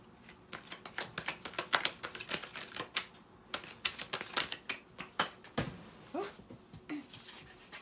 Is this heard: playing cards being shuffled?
yes